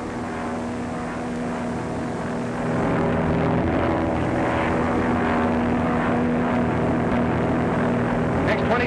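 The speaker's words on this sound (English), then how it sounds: "Patrol plane scouting." Propeller patrol plane flying overhead in an old Hollywood film, a steady droning engine hum that swells louder after a few seconds and holds, with faint background voices.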